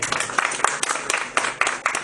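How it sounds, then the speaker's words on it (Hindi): An audience at an evening music programme bursts into applause, a dense wash of many hands clapping with sharper individual claps standing out, steady and moderately loud for a couple of seconds. "जोरदार तालियां।"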